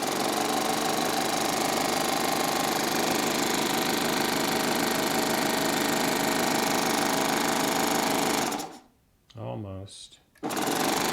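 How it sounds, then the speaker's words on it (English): Baby Lock Triumph serger air threader pushing heavy thread through with a loud, steady hissing whir that cuts off abruptly near the end, followed by a brief quieter burst; a voice speaks briefly. "I'm going to do it again with the air threader."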